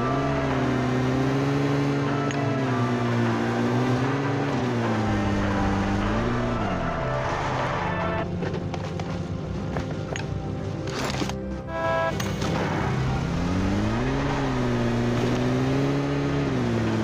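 A car in PUBG Mobile drives along with a loud, steady engine drone whose pitch rises and falls as it speeds up and eases off, continuous and close, with no talk.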